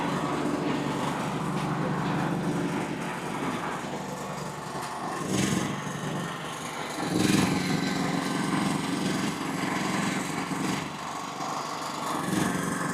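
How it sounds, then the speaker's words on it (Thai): The engine of an artesian well drilling rig running outdoors, a continuous, fairly loud buzzing drone with uneven surges and knocks from the working machinery. "เพื่อนก็ขุดบาดาลเนาะเจาะบาดาล แล้วก็จะมีน้ำใช้ตรงนี้นะครับ"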